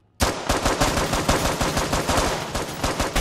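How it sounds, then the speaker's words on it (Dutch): A burst of rapid gunfire opens an action film scene after a brief silence, then rolls on as dense, loud, repeated shots with a booming low end to the end. "actiescènes met guns, met geweren"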